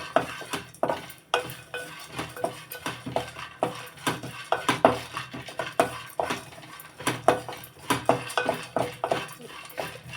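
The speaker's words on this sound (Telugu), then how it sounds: "ఒక రెండు నిమిషాలు వేపాలి అటుకులు" Flattened rice (poha) is dry-roasted and stirred in a pan for peanut laddu, with a busy run of scraping spoon strokes and light clinks against the metal, close and steady throughout.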